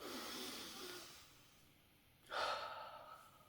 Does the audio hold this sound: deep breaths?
yes